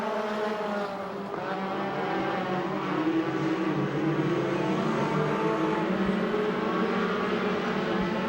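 USAC/CRA sprint cars race at Bakersfield, California, engines roaring in a dense, continuous wash of high revs that swells slightly louder midway, heard from trackside without commentary over it.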